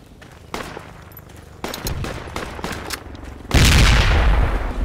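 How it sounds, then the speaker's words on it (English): In Project Reality, scattered gunfire pops near and far before a frag grenade detonates on a supply crate with a loud, sustained blast and rumbling debris. "Alright, I'm gonna frag this crate here. Frag grenade out!"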